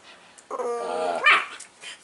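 A small puppy barks and growls while playing with another dog, sounding close and fairly loud, with a rough growl rising into a sharp yelp-like bark and no talking.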